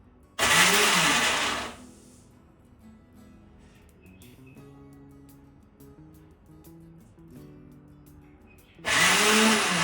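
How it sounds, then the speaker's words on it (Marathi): A mixer grinder coarsely grinds green chillies with salt in two loud bursts of whirring at the start and end, with a quiet kitchen and faint clinks between. "आता हा मिरच्या आपल्याला मिक्सरवर थोड्याशा करायच्या आहेत ना"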